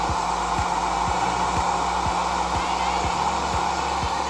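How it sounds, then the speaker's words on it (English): A hair dryer blows with a steady, loud whooshing roar throughout, faint regular clicking underneath, and nobody speaking. "get the hairdryer back on so to dry it off"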